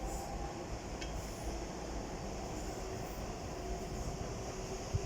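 A DLR light-rail train pulls away from Greenwich station bound for Bank, a steady low rumble and rolling hum that holds at moderate level throughout, with a brief squeal and a small knock near the end.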